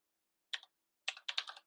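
A few quiet, crisp computer keyboard keystrokes while code is typed: one soft tap, then a quick cluster of clicks in a silent room.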